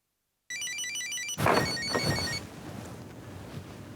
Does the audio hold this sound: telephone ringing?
yes